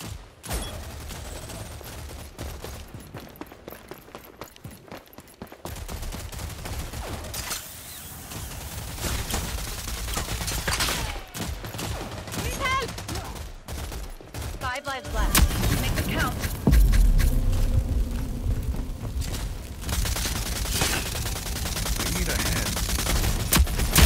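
Rifle gunfire from the Rogue Company video game, bursts of rapid shots in dense clusters layered with game effects and background clatter, with a voice talking intermittently through the action.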